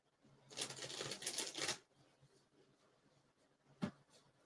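Tarot cards shuffled by hand during a reading, a soft papery riffling burst lasting about a second, then a quiet pause and one brief sharp card snap near the end, with no talking.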